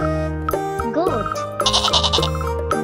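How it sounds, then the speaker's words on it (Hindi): A goat bleats in a few wavering, quavering cries, loud and close, with a faint jingle in the background. "गोट"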